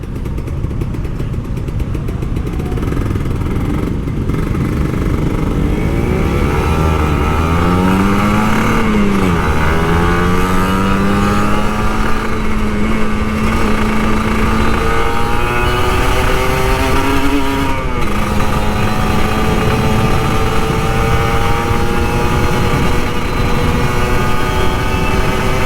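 A Kawasaki Ninja RR 150 motorcycle engine runs steadily and loudly in the rain, its pitch rising and falling gently as the throttle is eased on and off, never fully opened.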